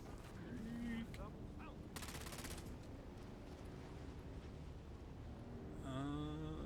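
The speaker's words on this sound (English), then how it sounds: "since I'm being shot at" Gunfire in the video game Dune: Awakening, heard as distant rapid shots and a brief burst of automatic fire over a steady desert wind and game ambience, with a few tonal game effects.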